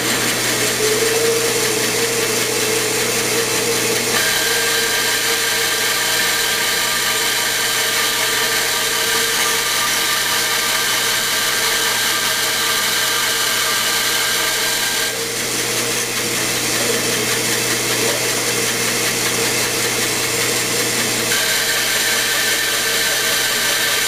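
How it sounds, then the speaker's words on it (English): A bandsaw cuts wedge slots in wooden tenons for a fireplace mantel, its loud steady whine running continuously with slight shifts in pitch as the blade works through the wood, with no talk. "I'll do as many of them on the bandsaw as I can"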